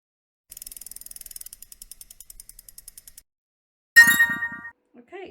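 Dice rattle and tumble during a board-style reading game, a quick clattering run of small clicks that slows and stops, followed by a nearby voice speaking.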